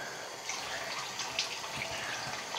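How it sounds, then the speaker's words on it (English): Water runs from a bathroom tap while someone washes their face after removing makeup, a steady close splashing stream with small drips, without any talk. "I'm gonna wash my face."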